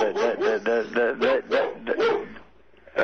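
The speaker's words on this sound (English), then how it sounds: "That's my dog." A dog barks in a quick run of close, sharp yelping barks, heard over a telephone line during a radio interview, then pauses briefly before one more bark.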